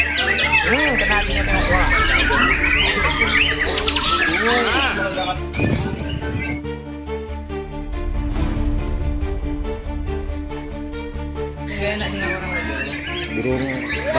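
White-rumped shama (murai batu) sings loud, varied, rapid warbling phrases close by, with brief pauses between bursts, while someone speaks briefly over it.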